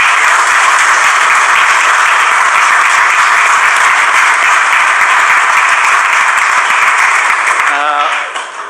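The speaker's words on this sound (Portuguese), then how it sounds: "Uma salva de palmas bem fortes para vocês" Loud, dense applause from a crowd at a diaspora gathering in Lisbon, sustained and even for several seconds before tapering off at the very end.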